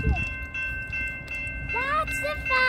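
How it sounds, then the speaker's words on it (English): A GO express commuter train passes nearby with a steady tonal hum and rumble, while voices talk excitedly over it. "Wow, this is the express train."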